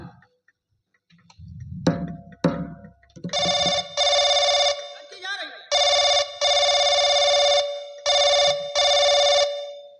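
A short burst of talk and clicks, then a telephone rings in repeated electronic trills, loud and close, in regular paired bursts.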